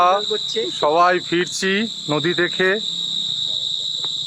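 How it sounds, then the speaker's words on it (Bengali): Steady high crickets chirping continuously through the clip on a dark, quiet night, with voices talking over them in the foreground. "ঝিঝি পোকার ডাক আর আমরা।"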